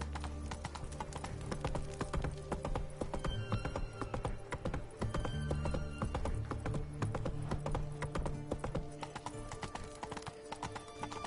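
Roach the horse's hoofbeats pound in a steady galloping rhythm throughout a loud Witcher game scene, layered over a dense background score with no clear talk.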